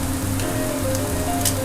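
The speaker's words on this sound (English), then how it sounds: "Just continue to saute that over medium heat till those onions get real nice and soft" Onions and mushrooms sauté over medium heat in a pan, giving off a soft, continuous sizzle and crackle with a low steady hum underneath.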